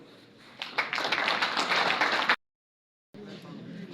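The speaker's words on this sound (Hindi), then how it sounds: "मेरी मुराद आप सबकी भरपूर तालियों में आमिर शहजाद खान।" Loud, dense applause from a crowd at a political meeting in a village, sustained for about two seconds, then cut off abruptly; after a short silence a softer wash of noise returns.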